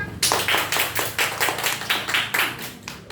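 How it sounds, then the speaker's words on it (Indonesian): A class of children claps together in a classroom, about a dozen loud, regular rhythmic claps in unison that fill the space, with no talking over them. "Tepuk tangan semuanya."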